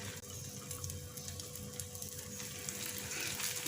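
Whisked egg mixture for an egg wrap is poured into lightly heated oil in a pan and sets up a steady, close, even sizzle with no talking.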